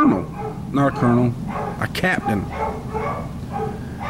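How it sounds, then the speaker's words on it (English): Dogs bark and yip in a household while someone talks over them, the sharp barks coming in short bursts partly masked by his voice. "sorry about the dogs"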